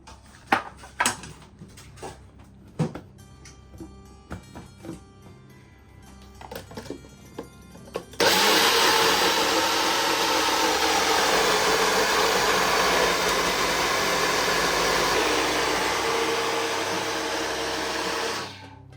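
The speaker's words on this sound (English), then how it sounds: "Don't be afraid of getting the blender to really work hard." Scattered clinks and taps of ingredients, including lemon, being added, then a blender starts with a loud, steady whirring roar that runs continuously for about ten seconds.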